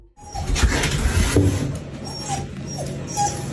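Dogs whimper and whine in short high-pitched bursts within a home, fairly close, with some rustling and background noise and no talking.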